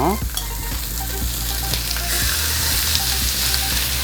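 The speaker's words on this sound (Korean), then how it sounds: "팬에 전체적으로 기름을 둘러주세요 삼겹살 껍데기 부분 먼저 올려주세요" Pork belly skin fries in an oiled pan with a loud, dense sizzle that crackles steadily throughout, with brief clanks from stirring near the start.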